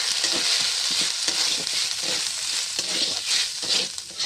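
Mung dal sizzles and hisses in a hot pan with fried ginger while a spoon scrapes and stirs it in a steady, busy rhythm, close up.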